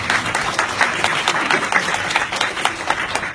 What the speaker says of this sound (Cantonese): 我會俾掌聲佢啊！